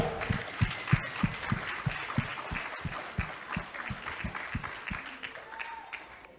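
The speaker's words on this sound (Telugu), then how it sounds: "ఒకసారి పత్రి సార్కి గట్టిగా చప్పట్లు కొడదాం" An audience at a meditation summit in the USA claps in steady rhythmic unison for Patri Sir, with sharp, evenly spaced beats and some voices mixed in.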